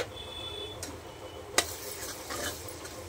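Red chilli and pav bhaji masala being stirred into the bhaji in a pan, a soft frying sizzle underneath with one sharp spoon knock against the pan and light scraping, close and fairly quiet.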